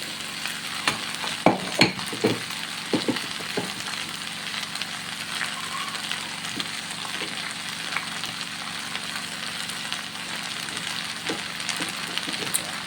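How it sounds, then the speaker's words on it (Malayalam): Crushed coconut, onion and cumin paste going into a pan of avial for an Onam feast, giving a steady sizzle with scattered crackles and stirring clatter throughout, no talking. "നമുക്ക് നമ്മുടെ അരപ്പ് കൂടി അങ്ങോട്ട് ഇട്ട് കൊടുക്കാം"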